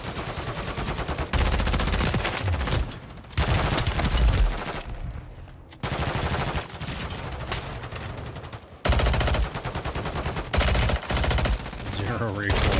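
Near-continuous automatic weapon fire in the video game Fallout 76, loud sustained bursts broken by short pauses, with faint talk in places.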